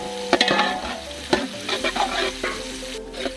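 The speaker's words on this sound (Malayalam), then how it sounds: "സവാള നമുക്ക് നന്നായിട്ട് വഴറ്റിയെടുക്കണം കേട്ടാ" Onions sautéing in hot coconut oil for a beef bone marrow dish, with a steady crackling sizzle and several sharp scraping knocks of a spoon stirring in the pan, close and moderately loud with no talking.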